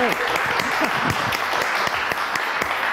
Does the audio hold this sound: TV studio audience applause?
yes